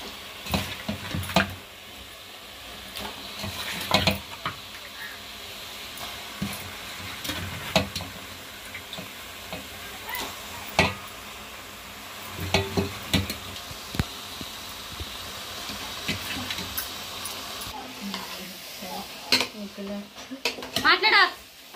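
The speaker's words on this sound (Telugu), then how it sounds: "చికెన్ వేసుకొని మొత్తం కలిపేసుకోవాలి." Chicken pieces are stirred through a frying pan, with soft sizzling and intermittent spatula scrapes and pan clatter heard under ongoing conversation.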